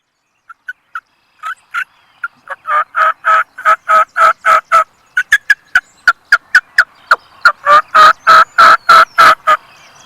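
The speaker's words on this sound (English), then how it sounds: "I start hearing gobbles again behind me and across the road." A wild turkey gobbling on Wisconsin public land during a spring hunt, loud and close: a few short clucks lead into a long run of rapid, evenly spaced gobbling bursts that pause briefly and then resume, with no voices.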